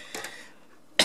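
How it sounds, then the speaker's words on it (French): Two short coughs from a nearby person indoors at an unboxing of green plastic goblin miniatures, followed after a pause by a sharp louder burst at the end. "Ah non, je tousse, non."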